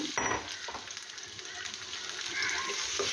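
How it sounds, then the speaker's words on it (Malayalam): Ripe banana pieces sauté with raisins in a pan, giving a steady, close sizzle with soft spatula scrapes and stirring clatter throughout, no voices. "പഴം ഒന്ന് നന്നായിട്ട് വഴറ്റിയെടുക്കുക"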